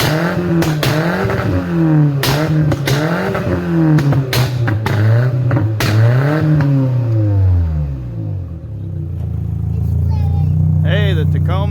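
A 1999 Toyota Tacoma engine under repair cranks and catches, then runs roughly close by, its pitch swelling and sagging through repeated rough revs with sharp clattering knocks before settling into an uneven idle.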